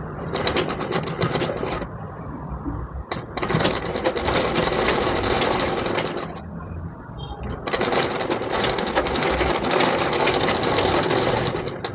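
A sewing machine stitches a fabric strip onto a frock in long steady runs of fast, even mechanical chatter, loud and close, broken by two short pauses.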